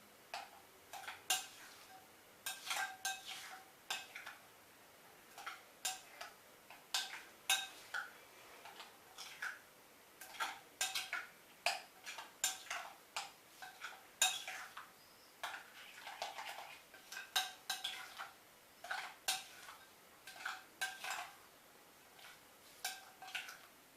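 Spoon scraping and clinking against a bowl while tzatziki is mixed with oregano, a steady run of sharp ticking taps at close range with no talk.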